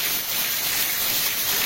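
Heavy rainfall makes a steady, dense hiss that stays even and close for the whole short stretch, with no voices over it.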